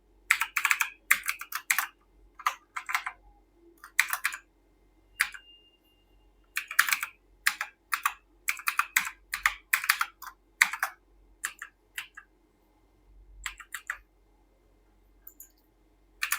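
Keystrokes on a computer keyboard while a TR069 profile is set up for a GPON OLT, coming in quick bursts of close, crisp clicks separated by short pauses, with no talking.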